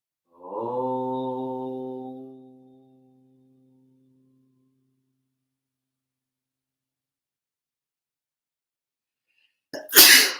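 During a hatha yoga class, a voice holds a long hummed om that fades out, then after a pause a single sharp, loud sneeze bursts out close by.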